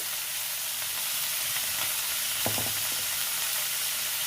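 Onion stalks frying with turmeric in a pan, a steady close sizzle with a brief clatter of stirring or a spoon against the pan midway.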